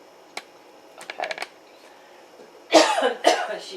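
A person coughs indoors during a sewing session: a small throat click, a quick cluster of light coughs, then two louder, harsher coughs close up near the end.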